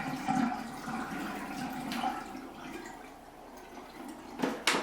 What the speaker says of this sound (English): So, carefully start pouring out the water.